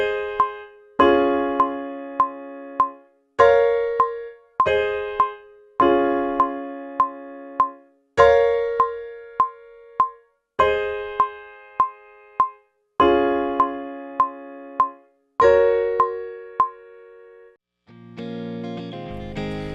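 Piano playing the chords of a song, clean struck chords in a steady repeating pattern, each left to ring and decay before the next, ending on a softer run of notes, with no talk.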